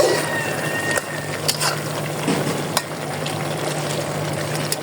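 A vegetable curry is stirred and fried in an uncovered pan, a steady close sizzle running throughout with occasional light scrapes and taps of a spoon against the pan.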